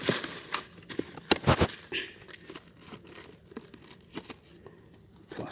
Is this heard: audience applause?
no